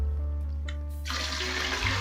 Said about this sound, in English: then I'll add in my second glass of water